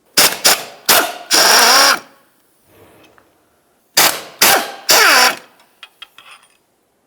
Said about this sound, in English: Now we can start removing some of our mounting bolts for this.